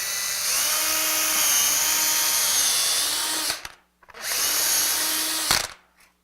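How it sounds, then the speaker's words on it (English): Two bursts from a step drill bit boring holes during a Ford Bronco build, each a sustained high whine of about three seconds and then one second, close and loud, with a short pause between them. "I use a step drill bit. I find it's the best way to go."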